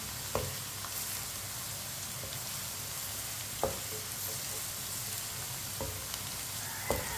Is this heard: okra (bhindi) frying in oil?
yes